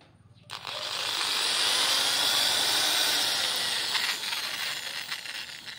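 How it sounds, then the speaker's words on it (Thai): A power drill bores a hole while making a quail trap mechanism. It starts with a short burst, then holds a loud, steady whine for about five seconds before wavering at the end. "ก็สว่านครับผม"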